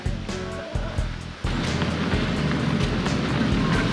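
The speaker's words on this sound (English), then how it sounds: "these waves are not swimmable" Rough, unswimmable surf breaks on a beach at Puerto Escondido in Oaxaca, Mexico, a steady loud wash of crashing waves and churning water that swells in intensity partway through, with no talking.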